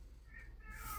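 A cat meows loudly in a drawn-out, singing wail that rises toward the end, close by and alone over a low steady hum.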